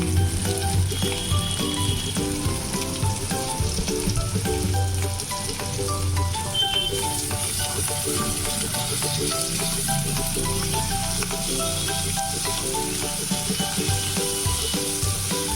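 Onion and garlic frying in a pan for a prawn and plantain mash, a steady dense sizzle with stirring scrapes throughout, fairly close and continuous, no talking.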